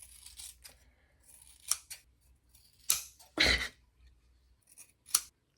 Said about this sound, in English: I'm just gonna cut the ends on the sides